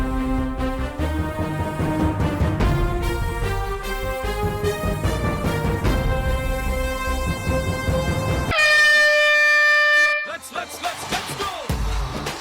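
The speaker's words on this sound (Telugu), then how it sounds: "హార్న్ వస్తుంది, హార్న్ తర్వాత స్టార్ట్ చేయాలి" During a Telugu game show round, music plays loudly before a long, piercing air horn blast sounds on its own, cutting through as the round begins.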